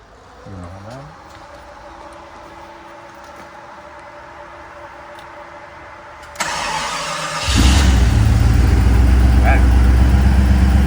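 An AMC 401 V8 engine in a 1989 Jeep Grand Wagoneer with Sniper EFI cranks with a starter whine, catches after a few seconds, and settles into a loud, deep, rumbling idle close by.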